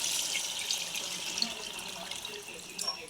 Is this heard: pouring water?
yes